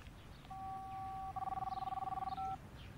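Touch-tone telephone keypad being dialed in a quiet indoor setting, a steady dial tone followed by a quick run of about fifteen rapid, evenly spaced beeps, then a brief final tone, with no voices.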